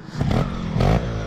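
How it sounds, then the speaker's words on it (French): A trial motorcycle engine revs close by in two short surges, rising and falling loud with a harmonic buzz and some clatter between pulses. "Alors vous voyez, ça c'est ma moto de trial."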